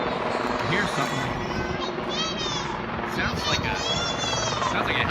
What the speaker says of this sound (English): a helicopter coming out the other side of that hangar over there.